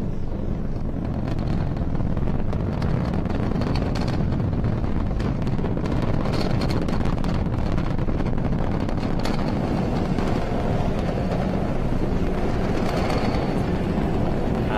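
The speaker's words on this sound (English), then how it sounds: "We've had successful liftoff of the Falcon 9." SpaceX Falcon 9 rocket at liftoff, a continuous loud broadband rumble and roar that stays steady and buffeted like heavy wind, distant but overwhelming, with no other sounds standing out.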